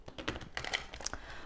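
Tarot cards shuffled by hand in a quiet room, giving soft, quick papery riffles and taps in close, faint bursts, with no talking.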